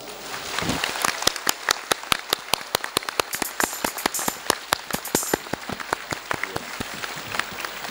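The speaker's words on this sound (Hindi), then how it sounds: "माता मरी लिए एक जोरदार ताली बजाओ" Loud, sustained applause from a crowd at a devotional bhajan evening, many hands clapping sharply and continuously for several seconds.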